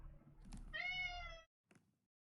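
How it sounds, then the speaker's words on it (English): A cat meows in complaint, close and fairly quiet: one drawn-out, rising-and-falling meow, then a brief short one after a pause. "Why would a cat jump when it could complain?"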